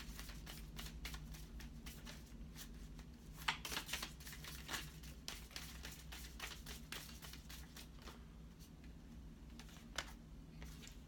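A Moonology oracle card deck is shuffled close by, with soft, quiet riffling and tapping of cards and a few sharper snaps scattered throughout.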